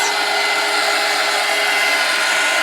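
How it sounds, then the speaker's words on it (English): A small handheld craft dryer blows steadily on wet Mod Podge coating a glass bottle, a loud, continuous airy whir that holds even from start to finish with no talking. "I'm going to take my little dryer, and I am going to dry this a bit"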